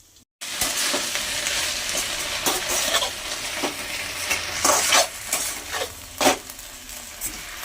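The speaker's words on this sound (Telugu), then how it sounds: "ఇలా పుదీనంతా కూడా బాగా నీట్గా వాడ్చుకోవాలా ఆయిల్లోనే" Mint leaves sauté in hot oil in a pan for a spicy mint chutney: a continuous close sizzle broken by repeated scraping ticks of a spoon stirring.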